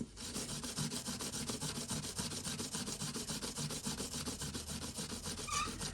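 Abrasive scrubbing of an old 1980s Casio watch with a Scotch-Brite pad, a close, steady rhythmic rasping of back-and-forth strokes continuing throughout with no talk.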